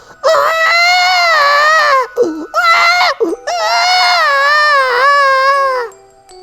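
A voice mimics a hungry infant's cry with loud, drawn-out wails broken by short sobbing catches and breaths, ending in a fading whimper, close up with no other sound.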